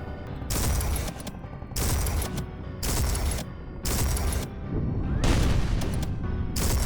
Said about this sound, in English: Oh yeah, the funny shotgun.